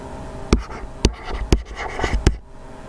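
Pen drawing graph axes on paper, with four sharp taps spaced about half a second apart and soft scratchy strokes between them, close and distinct.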